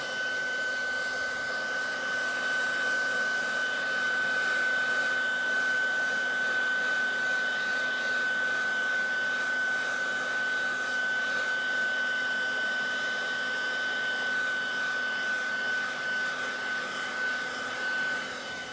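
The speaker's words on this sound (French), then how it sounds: "avec le sèche-cheveux, vous venez et vous effacez tout." A hair dryer runs continuously to erase Pilot Frixion pen marks, producing a steady, close, whirring blow with a constant high motor whine that holds unchanged for the whole stretch, without speech.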